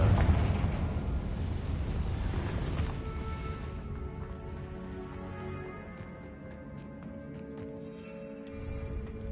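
Confringo blasting spell in Hogwarts Legacy: a loud, deep blast opens the clip, then rumbles and fades into lingering debris crackle and a quieter tail, with no one talking.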